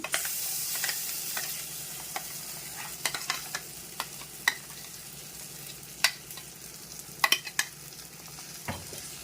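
Chutney being stirred into well-fried onions in an iron pan, a faint continuous sizzle broken by scattered sharp clicks and scrapes of a spoon against the metal.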